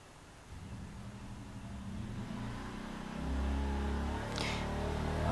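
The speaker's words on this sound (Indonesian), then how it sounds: "Oke, ada motor." A motorbike passes on a road, its engine rising from a faint distant drone to a louder mid-pitched whir, then holding steady as it goes by.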